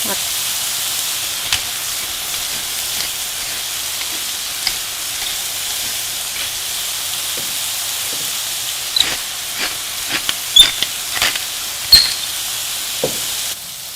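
Carrots and celery frying in a pan, a steady soft hiss of sizzling with occasional sharper pops and stirring clicks, heard close and alone.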